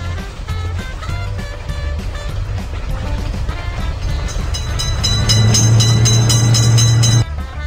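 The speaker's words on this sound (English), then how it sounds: "Train is in sight." A game train passes a crossing in a children's cars-and-trains cartoon, rumbling continuously and swelling in the second half with a long held horn tone before cutting off abruptly, under bright game music.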